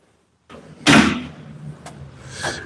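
A back door opens and swings with a sharp thud, followed by lighter knocks and a latch-like clack as it closes, close by, with no one talking.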